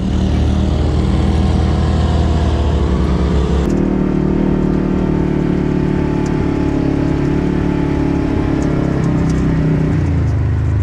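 An off-road vehicle grinds up Axle Hill under heavy throttle, its engine roaring loud and close throughout, with the pitch and load shifting partway as it claws upward.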